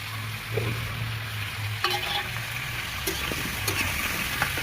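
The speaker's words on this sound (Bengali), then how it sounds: "সবগুলো আলু দিয়ে দিচ্ছি এখন ভালো করে ভাজার জন্য" Potatoes fry in a pan with a steady sizzle, broken by a few light scrapes and clinks of stirring; close and even, with no voices.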